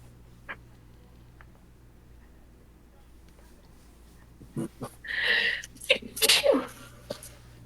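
A sudden sneeze bursts out near the microphone during a tabletop Pathfinder game session, a couple of sharp breathy blasts after quiet room hum and a few faint clicks.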